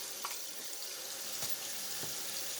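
Tap water runs steadily into a sink to wash collard greens, making a continuous hissing rush at an even level, broken only by a few faint clinks.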